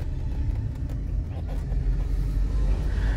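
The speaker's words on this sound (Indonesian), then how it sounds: "Pada video ini kita berkendara sambil membuka kaca jendela" A 2002 Mercedes-Benz C200 sedan driving with its windows open, giving steady, loud low road rumble and wind noise close by, continuous with no talk.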